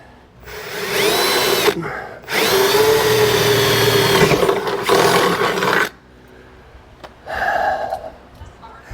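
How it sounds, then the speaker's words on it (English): A loud power drill whines in bursts, drilling a hole in a Jeep TJ body, running steadily for a few seconds, pausing, then running again before a brief quieter spin at the end. "that should give me the space I need to drill a hole right in there"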